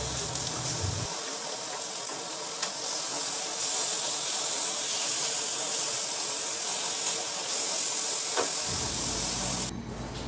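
Pork belly sears in a dry pan as it renders its own fat, giving a loud, steady frying hiss that holds for several seconds with scattered pops before the sound cuts off at the end.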